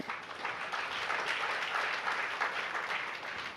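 Sustained audience applause at a Jain religious sermon by a monk, a dense, steady wash of many hands clapping at moderate distance, holding evenly throughout without any talk over it.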